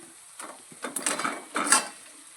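Alu vadi pieces are stirred in a bowl, giving a series of soft scraping clinks and clatters in a few short bursts, close by, with no talk.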